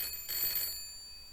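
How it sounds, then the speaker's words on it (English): An old-fashioned telephone bell ringing in the ghost-themed point-and-click video game Phantom Fellows, a short metallic trill that briefly swells and then fades, heard alone at moderate volume. "The phone finds itself ringing."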